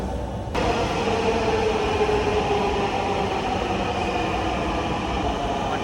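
A train pulls into a busy city station, a steady rumbling roll of wheels and carriages at moderate distance that starts abruptly and then stays constant.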